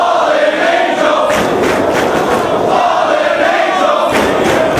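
A wrestling crowd at a Ring of Honor event roars loudly and continuously for Christopher Daniels during his match with CM Punk, a dense wall of cheering with swelling shouts and no commentary over it.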